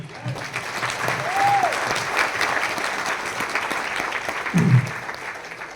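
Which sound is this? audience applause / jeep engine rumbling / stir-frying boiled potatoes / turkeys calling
audience applause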